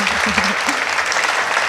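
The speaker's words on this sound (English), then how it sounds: "I just want to give a round of applause" Audience applause at an alumni and community awards ceremony, a dense, even patter of many hands with a few low voices murmuring underneath, sustained and fairly loud throughout.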